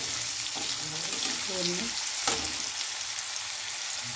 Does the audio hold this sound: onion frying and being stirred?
yes